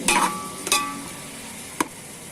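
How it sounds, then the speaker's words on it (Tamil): Onions sizzle steadily in hot oil in a pan, with a few sharp scraping clanks from stirring near the start and one more later. "இப்போ நான் 4 டேபிள் ஸ்பூன் ஆயில் ஊற்றிட்டு அதில் ஆனியன் போட்டு நல்லா வதக்கிக்கிறேன்"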